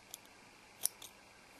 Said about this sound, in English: So what we're going to do is cut off our yarn.